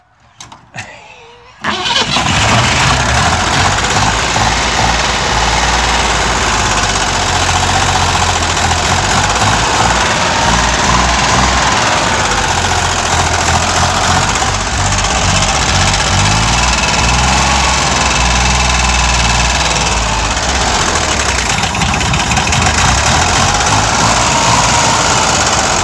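A cold Chevrolet Corvair engine cranks briefly and catches, then settles into a steady, loud, close idle with a slightly uneven mechanical knock running throughout.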